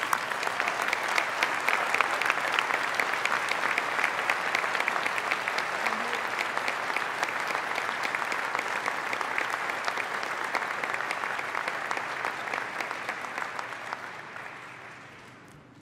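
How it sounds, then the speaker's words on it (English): Loud, sustained applause from a large audience at a university graduation ceremony, dense and steady for a long stretch before gradually fading out. "Please stand up and take a well-deserved round of applause."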